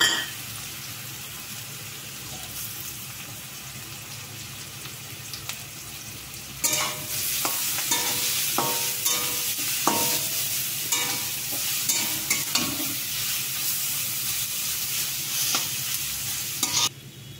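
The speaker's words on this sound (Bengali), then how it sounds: "গ্রেট করা গাজরটা ভেজে নেব" Grated carrot stirred and fried in oil in a pan sizzles quietly at first, then a louder burst of frying begins with repeated scraping stirs and clinks, continuing steadily.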